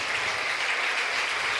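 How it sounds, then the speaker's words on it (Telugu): A congregation at a Good Friday church service claps together in praise, producing a dense, even wash of applause that holds steady from start to finish. "రెండు చేతులెత్తి చప్పట్లు కట్టి యేసయ్యకి త్యాగానికై స్తోత్రాలు చెల్లించుదాం"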